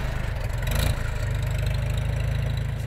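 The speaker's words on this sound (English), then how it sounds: "It's a 58-year-old tractor that runs like the new one." A 58-year-old farm tractor engine idles with a low, even chug, steady and fairly close, with a brief swell in the middle before it settles back into a regular running rhythm.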